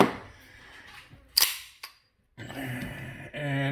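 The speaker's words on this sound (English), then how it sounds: "And here we cleared the weapon." A Kimber Raptor 1911 pistol is cleared, giving a few sharp metallic clicks and clacks of the slide and action close by, with a short silence between bursts of handling noise.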